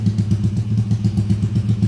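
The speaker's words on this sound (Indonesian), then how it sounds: "Kita paksa kita hidupkan terus supaya reyennya cepet enteng, karena piston Scorpio lebih cepet untuk proses reyennya" A Yamaha Scorpio motorcycle engine runs steadily during break-in after an engine rebuild, a loud, close, low throbbing idle with an even pulsing beat and a light mechanical clatter, with no talk.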